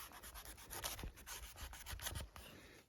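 A Badger Outdoor D2 Orix folding knife with a D2 steel blade saws through thick rope, giving faint, irregular rasping and rubbing strokes close by.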